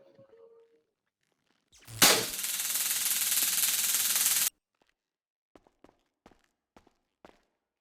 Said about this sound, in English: So now if you shoot me with your taser.